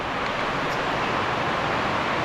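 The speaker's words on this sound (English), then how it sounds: "Sorry about the rain. Just started coming down as I started filming." Steady rain falls outdoors near a 2019 Chevrolet Silverado 2500HD L5P Duramax truck, a constant dense hiss with no pauses or breaks.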